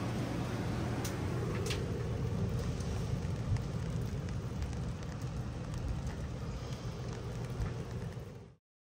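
Steady rain falls outdoors at a Texas Toyota off-road gathering, a dense, even hiss that holds for about eight seconds before cutting out, with no voices.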